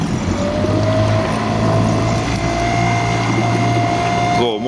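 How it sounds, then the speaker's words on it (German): Outboard motor on a small fishing boat trolling for salmon and sea trout off Rügen in the Baltic, running steadily and loud at close range with a constant low drone and a whining tone throughout. "Motor läuft"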